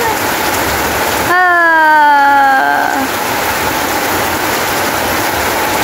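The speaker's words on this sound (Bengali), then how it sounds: "অনেক বৃষ্টি হচ্ছে" Heavy rain falls in a steady, loud hiss that fills the whole scene, broken briefly in the middle by a gliding, horn-like tonal wail.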